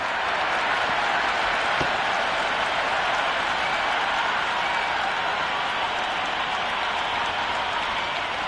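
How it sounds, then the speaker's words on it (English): A cricket crowd at a Big Bash League stadium match between Brisbane Heat and Perth Scorchers roars and applauds, a dense, continuous wash of cheering and clapping that holds steady throughout. "Will you listen to that crowd? They are loving this."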